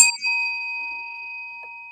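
A single bell rings out clearly once, a bright ding whose pure tone rings on and slowly fades, alone without any voices.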